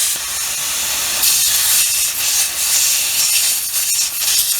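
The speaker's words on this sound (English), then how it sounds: "I'm gonna quickly replace this thing, kind of blow it out with air." Compressed air blasts into the valve cover of a Buick Verano engine, a loud, close, steady hiss that swells in a few stronger bursts and carries on throughout.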